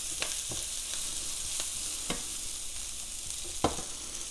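Vodka sauce sizzling in a pan on the stove, a steady close hiss of frying with a few faint taps and stirs scattered through it, no voices.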